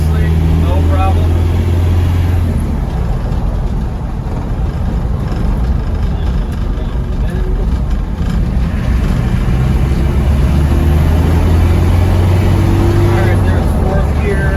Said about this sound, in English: Downshift into third gear up this hill. Accelerating nicely, no problem.